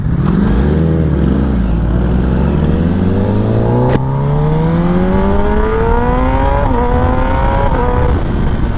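A Kawasaki ZX10R with an SC-Project exhaust revs loud and near, its engine note climbing steadily through a long pull with a brief break in the middle before winding higher, a harsh rasp over a deep growl.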